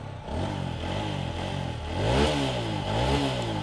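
A TVS Apache 4V X Connect motorcycle engine runs close up with a steady throbbing idle, then revs up and falls back twice in quick blips, with no talk.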